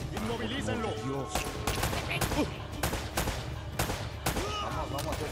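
Repeated bursts of gunfire crack out in rapid volleys in Uncharted: Drake's Fortune, loud and close, with a voice shouting between the shots.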